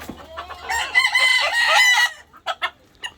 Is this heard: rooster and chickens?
yes